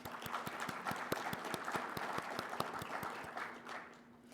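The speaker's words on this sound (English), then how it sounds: "I'd like to give you all a round of applause" Applause from attendees at an HBCU-UP principal investigators meeting opening plenary, steady crowd clapping with a few sharp, distinct claps standing out, fairly faint and tapering at the end.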